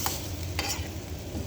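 Chicken and vegetables are stirred in a thin frying pan with no added water, giving a few scraping clinks over a steady low sizzle.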